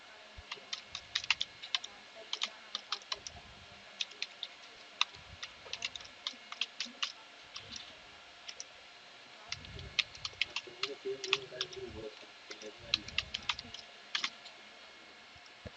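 Keyboard keys being typed on a computer running Linux Mint 18.3 while admin login details are entered, a quiet stream of irregular clicks in short bursts with pauses, alone without talk.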